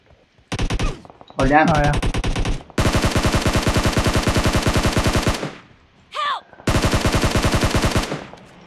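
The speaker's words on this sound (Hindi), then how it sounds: "बुलेट कहाँ से चल रही है, वहां से चल रही है" Rapid automatic gunfire from the video game PUBG Mobile, played as a squad match in War Zone mode, comes in several loud sustained bursts separated by short pauses. A player speaks briefly between the volleys.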